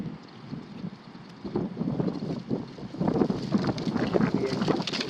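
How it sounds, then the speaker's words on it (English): Outdoors at a metal detecting site, gusty wind buffets the microphone with a loud, rumbling roar that swells and strengthens partway through and continues without pause. "Oh man, that wind is horrible, guys."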